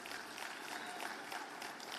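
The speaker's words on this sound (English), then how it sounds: "So let's give Citibank a round of applause for that work." Audience applause at a global forum conference, a dense, fairly faint wash of clapping heard from a distance, steady throughout.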